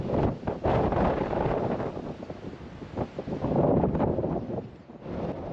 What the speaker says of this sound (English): the town beaches are blowing a gale